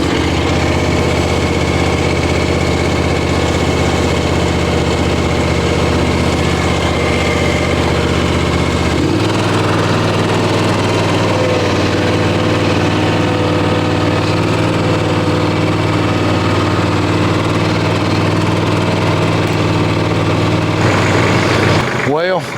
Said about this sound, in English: That mower will chop it up a little better.